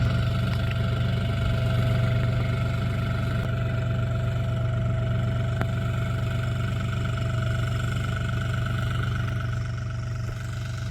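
A tractor with GPS autosteering runs steadily and loudly in a field with a constant low drone and mechanical hum, no voices, holding an even pitch throughout.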